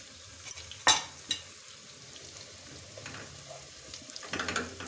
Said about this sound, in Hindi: और अब साथ ही मैं इसमें डाल दूँगी अपना ये अदरक और लहसुन का पेस्ट।